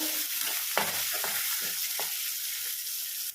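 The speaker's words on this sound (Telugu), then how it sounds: "ఇవన్నీ కూడా బాగా పచ్చివాసన పోయే వరకు వేయించుకోవాలి." Curry leaves and sliced green chilies fry in hot oil over a full flame, giving a steady sizzle with a few soft stirring scrapes and clicks and no voices.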